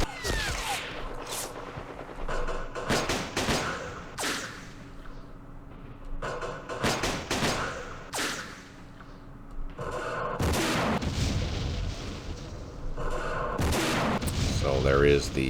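Gunfire and artillery in an Operation Starlite wargame, heard as scattered bursts of shots and booms in separate clusters, moderately loud, with ambient battle noise between them.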